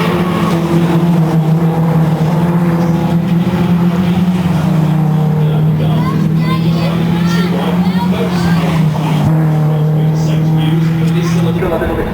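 Race cars at Knockhill circuit in a 2005 race roar loudly and steadily with sustained engine notes rising and falling as they pass, under a constant wash of track noise.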